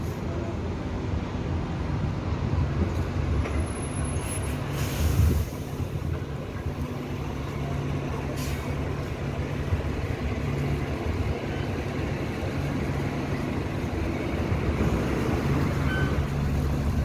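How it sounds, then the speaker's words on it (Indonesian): A city bus on the I34B airport route pulling away and driving, a steady low engine rumble and road roar heard from inside, continuous and fairly loud with faint talk mixed in. "Ini udah mulai jalan lagi bis"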